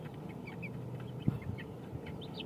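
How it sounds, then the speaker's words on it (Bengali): A small flock of three roosters and two hens clucks softly nearby, with scattered short calls and a couple of louder clucks in the middle, all fairly quiet. "তিনটা কক দুইটা মুরগি"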